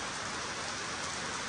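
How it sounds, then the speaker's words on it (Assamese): Rain pours down in a dense, even hiss of drops striking surfaces, with no break or change in intensity and no one speaking. "বৰষুণ দিছে"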